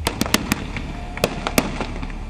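Diwali firecrackers and fireworks go off in a rapid irregular series of sharp cracks and pops, some loud and close, others fainter, over a constant crackling background.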